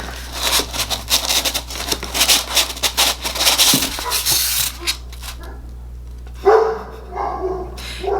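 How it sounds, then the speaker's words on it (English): A dog that has just woken up barks in a rapid string of close, loud barks, going quiet partway through before a couple of softer yips and whimpers. "He doesn't know what he's barking at."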